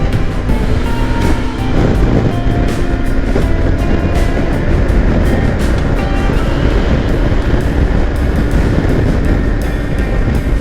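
A Kawasaki Versys X300 motorcycle cruises on a freeway at high revs, its engine drone buried under loud, constant wind rush that lasts the whole stretch.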